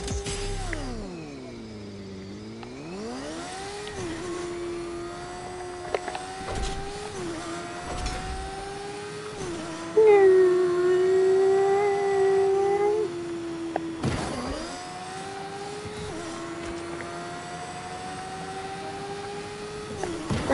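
Engine of a vehicle in Fortnite revving with a steady, rising and falling harmonic whine, surging louder for a few seconds midway, along with occasional bumps and clicks.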